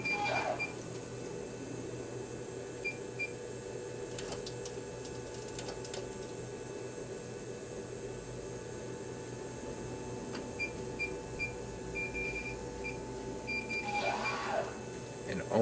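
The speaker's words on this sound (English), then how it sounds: "click into the machine. Load it until it gets to the ready state." A C Series DTG M2 direct-to-garment printer loads up to its ready state with a steady mechanical hum, faint clicks and a few short electronic beeps; a person talks at points.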